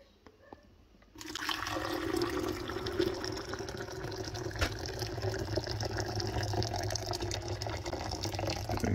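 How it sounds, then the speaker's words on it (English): Freshly boiled water from a kettle is poured into the tank of a Tommee Tippee Perfect Prep baby formula machine, a steady close gushing pour that starts suddenly after a quiet moment and keeps running. "So the next step is to add the 1 litre of boiling water."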